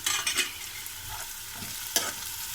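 Onions frying with green chillies in a pan, a steady sizzle with a spoon stirring and scraping in bursts, close and clear with no talking.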